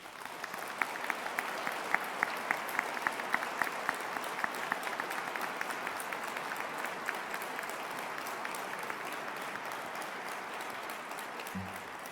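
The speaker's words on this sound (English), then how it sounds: "Please give them a round of applause." Audience at the 2016 Profile in Courage Award ceremony applauding a refugee family, sustained dense clapping from a large crowd at even loudness for about twelve seconds, heard from a distance in a hall.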